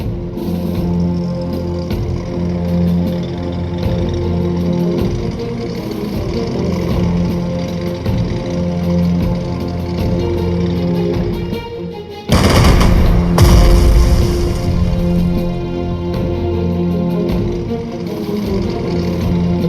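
Tank attack in the Strategic Mind Blitzkrieg strategy game: rapid machine-gun style bursts and booms over a droning engine, then a loud heavy blast around midway followed by rumbling gunfire, no talking.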